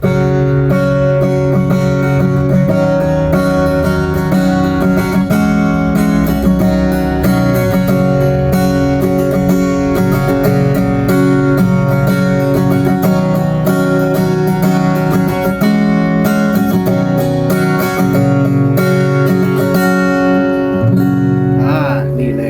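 Sustained strumming on a 38-inch Overspeed acoustic guitar, full and steady with ringing chords throughout, loud and close with no voices.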